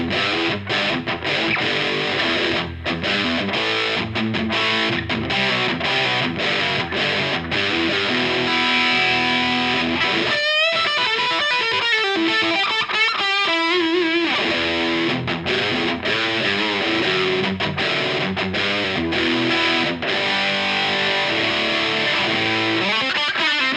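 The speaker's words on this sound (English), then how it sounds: "It's a very kind of 70s distortion." Electric guitar through a Teisco distortion pedal playing sustained chords and riffs with a gritty, saturated 1970s-style tone, loud and continuous, with a brief choppy break in the middle.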